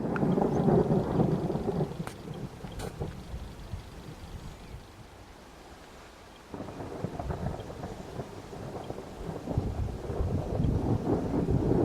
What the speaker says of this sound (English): I can certainly hear some thunder in the distance.